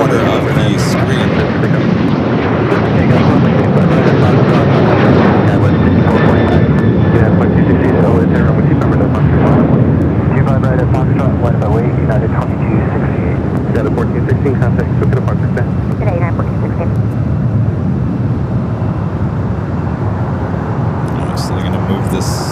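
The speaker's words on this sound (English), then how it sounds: "So they're going to move this Dreamliner over there to the Qantas hangar." A Boeing 787 Dreamliner being moved across the apron at LAX gives off a loud, continuous broadband roar of aircraft engine noise that fills the whole stretch, with voices mixed in.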